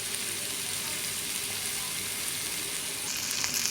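Okra sizzling and frying with tomato masala in a pan, a steady soft hiss throughout with a brighter crackle rising near the end.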